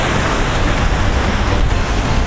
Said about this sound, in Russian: Сегодня почему-то большие волны.